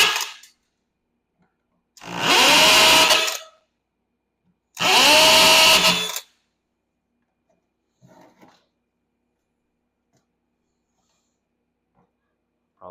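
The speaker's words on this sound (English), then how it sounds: "I'm gonna drill out the charger faceplate right here too, since we already have a replacement for that." Power drill boring out rivets on a golf cart charger faceplate, two loud bursts of whirring about a second long each, then quiet with faint small clicks and handling noises.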